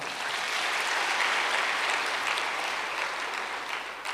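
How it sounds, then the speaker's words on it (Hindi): A seated audience at a spiritual class applauds itself, a dense, sustained roomful of clapping that holds steady for several seconds before easing slightly at the end. "चलो अपने लिए ताली बजाओ"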